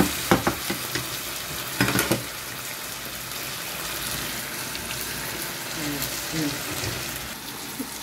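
Devilled prawn sauce with hot chili sauce sizzles in a pan while it is mixed, a few sharp clanks of the utensil early on, then a steady frying hiss.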